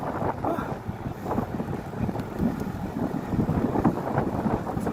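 Steady wind rushes across the microphone while cycling the Carabao Island loop in the Philippines, a continuous low roar with mild gusts and no speech.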